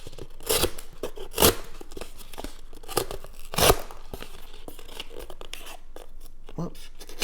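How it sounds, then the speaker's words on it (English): A Spyderco Paramilitary 2 drop-point folding knife slices across the grain of a material, producing repeated close, rasping tearing cuts with a couple of louder strokes, while a voice is present in the background. "So let's go ahead and try the regular PM2. And I'm cutting across the grain essentially."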